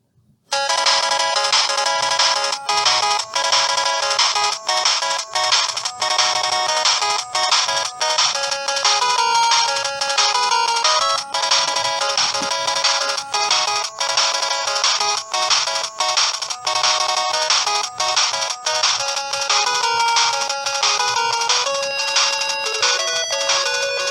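Mega Man 2's Dr. Wily theme plays loudly as a phone ringtone, bright beeping square-wave notes in a fast repeating pattern, continuous with brief gaps between loops.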